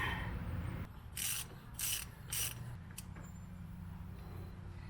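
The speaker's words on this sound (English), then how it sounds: "You don't get carried away on tightening up this axle nut" A ratchet tightens the axle nut during a hub assembly replacement on a 1997 Jeep Cherokee, giving three short, quiet ratcheting bursts and one brief final click over a low background hum.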